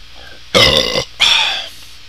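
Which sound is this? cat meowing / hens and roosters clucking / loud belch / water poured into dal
loud belch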